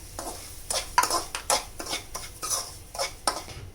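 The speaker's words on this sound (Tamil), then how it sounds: "இந்த ரவையை சேர்த்து நம்ம நல்லா வதக்கிக்கலாம்" Semolina stir-fried in ghee in a pan for a sweet, heard as a series of close scraping and clinking spoon strokes against the metal in an uneven rhythm, with no steady sizzle beneath.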